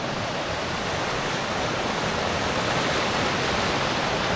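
A river swollen by wind and rain in the Lake District rushes past close by in a constant, heavy roar of churning water, with no break and no voices.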